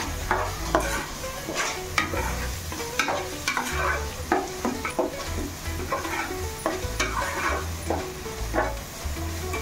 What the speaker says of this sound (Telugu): సాల్ట్ వేసుకున్నాక కలుపుకోండి